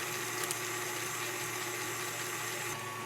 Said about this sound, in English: Now we're going to let this whip until it's almost whipped cream.